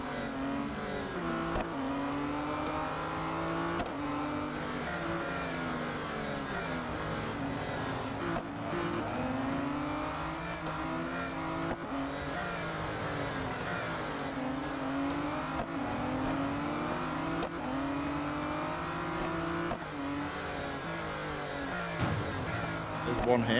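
Aston Martin race cars in Real Racing 3 rev and whine continuously through a crowded race, engine pitch rising and falling with gear changes, steady and fairly loud.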